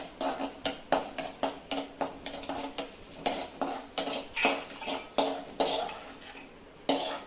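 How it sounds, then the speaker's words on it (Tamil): Rhythmic metal scraping of a spatula stirring cashews and raisins roasting in ghee in a kadai, quick repeated strokes going on steadily at close range. "கொஞ்சம் நெய் கடாயில் விட்டுட்டு இந்த முந்திரி திராட்சை காஞ்சி திராட்சை ரெண்டுத்தையும் நல்லா வறுத்துக்கணும்"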